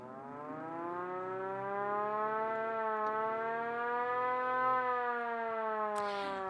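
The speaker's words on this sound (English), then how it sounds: "And so does the siren." An antique fire engine's mechanical siren winds up and wails in one long sustained tone, holding a steady pitch before cutting off abruptly at the end.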